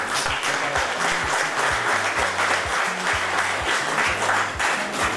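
Audience at a party congress meeting applauding the party president, sustained dense clapping from a large crowd with steady rhythmic beats, loud and close throughout.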